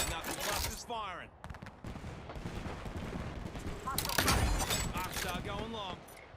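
Knuckle cluster weapon firing in a sci-fi video game, bursts of rapid gunfire and mechanical whirs mixed with other weapon fire, while a voice talks throughout.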